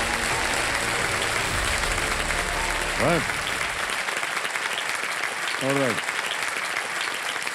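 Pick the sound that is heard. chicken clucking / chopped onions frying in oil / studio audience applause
studio audience applause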